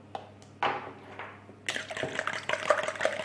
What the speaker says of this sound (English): Pour the milk in.